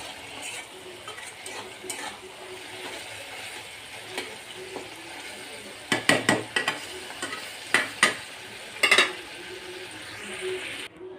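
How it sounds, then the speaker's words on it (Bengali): Sponge gourd stir-fry sizzles softly in a pan under steady low frying noise, with a burst of sharp scraping and clinking stirring strokes near the end. "দুন্দুল ভাজিটা একটু নামিয়ে রাখলাম,"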